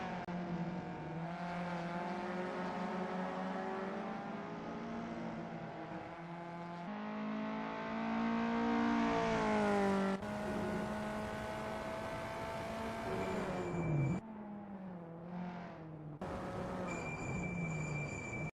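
VW Up Cup race car on its out lap, warming its tyres, engine droning steadily with rising and falling pitch as it works through the gears, loud and close throughout with no voices.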